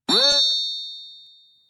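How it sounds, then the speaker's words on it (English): A bright synthetic chime rings out from a multi-band delay plugin in FL Studio 21, one sharp struck onset with a brief tonal sweep that decays into a long, clean ringing tail, with no voices. "You see how it has like a little chiming effect?"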